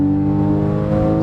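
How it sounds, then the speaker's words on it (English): A Porsche 911 with a sports exhaust drones loudly and steadily, its deep exhaust note holding a smooth, sustained tone up close. "I've got a sports exhaust, it just sounds awesome."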